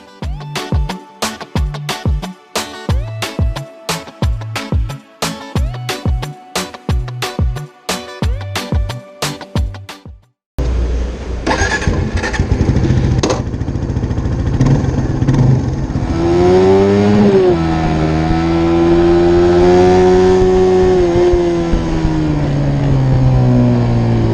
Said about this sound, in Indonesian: Mungkin ini jadi salah satu faktor suara knalpotnya jadi sedikit ngebas.